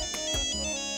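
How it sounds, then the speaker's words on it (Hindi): A phone ringtone rings in a home, a bright electronic melody with steady sustained tones over about a second, loud and close, with no voices. "मिसेस मालती का फोन है"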